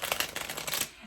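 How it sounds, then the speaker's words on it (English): A deck of cards is riffle-shuffled once, a quick close burst of fluttering clicks lasting under a second before fading out. "I'm going to do one more shuffle."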